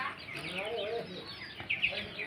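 Backyard chickens that had been soaked in water clucking softly and steadily nearby, with a few higher squawks near the end, fairly faint overall.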